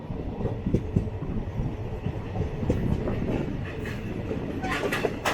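An Intercity Express train rumbles into Kuzhithurai station, its steady rolling noise close and continuous, with faint clicking of wheels over rail joints and a brief brighter screech near the end.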